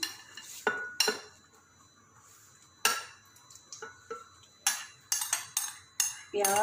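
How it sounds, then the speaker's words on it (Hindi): Browned onions are tipped into a blender jug in a home kitchen, giving a handful of separate clinks and scrapes of a spoon against the jug, spaced apart over quiet background. "अब मैं प्याज जग में डाल रही हूँ।"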